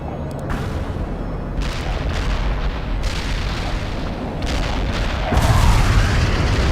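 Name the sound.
heavy artillery barrage in video game World in Conflict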